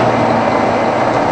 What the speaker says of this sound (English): Hopefully he's not going to mind the engine revving too loud.